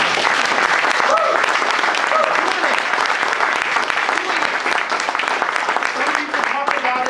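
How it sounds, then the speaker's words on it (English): Dense, sustained crowd applause for a speaker at a business motivational speaking event, steady and loud throughout without a break. "can we please give this man a round of applause?"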